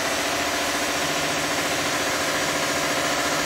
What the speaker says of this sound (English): We now have the steam engine running.